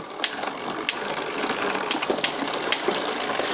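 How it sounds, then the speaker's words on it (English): Bicycle drivetrain shifted through all its gears while the chain turns over the cogs and front chain rings, a continuous close whirring and ticking with occasional clicks of derailleur shifts. "we're just going to shift through all the gears on the bicycle."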